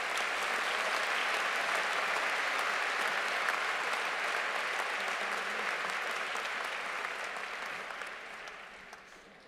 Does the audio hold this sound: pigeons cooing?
no